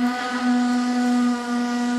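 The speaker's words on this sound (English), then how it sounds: "In the mills, the whistle was operated by pulling a chain." A student-built, mill-style steam whistle at a college football stadium blows one steady, loud, sustained tone, close and uninterrupted for the whole stretch.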